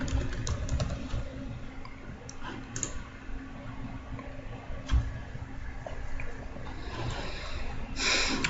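A search is typed on a computer keyboard, with sparse, light key clicks in uneven bursts over a steady background hum, close but soft.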